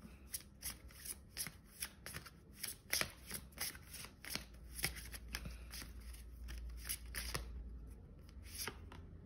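Oracle cards being shuffled by hand, a steady run of quick papery riffles and slaps close up, with no talking.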